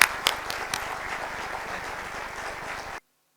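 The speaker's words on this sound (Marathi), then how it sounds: "एकदा जोरदार टाळ्या होऊन जाऊ दे." An audience at an entrepreneur excellence awards ceremony breaks into applause, a dense burst of many hands clapping with a few sharper claps standing out, holding steady for about three seconds before stopping abruptly.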